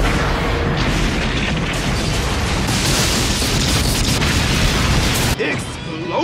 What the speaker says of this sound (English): You see something else explode.